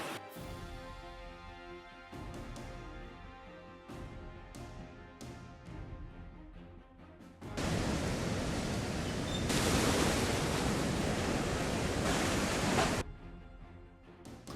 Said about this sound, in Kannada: ಅತ್ತ ಮಲ್ಪೆ ಬೀಚ್ನಲ್ಲೂ ಅಲೆಗಳು ಅಬ್ಬರಿಸುತ್ತಿವೆ